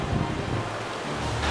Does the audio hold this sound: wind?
yes